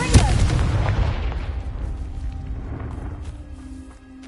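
Confringo fire spell blasts in the video game Hogwarts Legacy: a loud booming explosion at the start, followed by a long rumbling decay that fades over several seconds.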